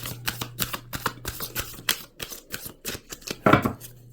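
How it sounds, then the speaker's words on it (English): Close, brisk tarot card shuffling with sharp repeated flicks and riffles, ending in a slightly heavier shuffle burst over a faint background hum. "we'll shuffle one more time"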